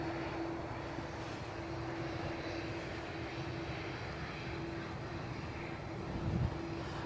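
An EasyJet passenger jet airliner at Birmingham Airport gives off a faint, distant, steady engine roar and hum that carries on throughout without much change.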